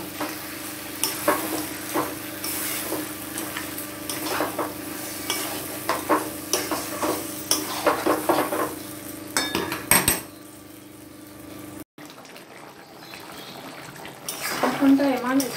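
Mutton sautéed and stirred in a pan, with repeated scraping and stirring strokes over a steady sizzle, close and fairly loud, briefly dropping out near the end before stirring resumes.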